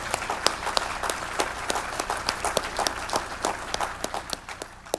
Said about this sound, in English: give yourselves a thunderous round of applause